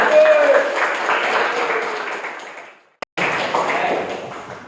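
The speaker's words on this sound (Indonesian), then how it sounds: "Tepuk tangan dulu Pak." A classroom group of teacher trainees claps hands together in a loud, dense burst that cuts out briefly and resumes, sustained throughout.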